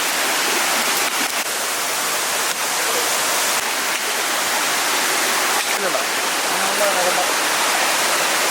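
Water pours and splashes in a steady, loud rush from a cut forest vine, with faint voices briefly audible beneath the flow.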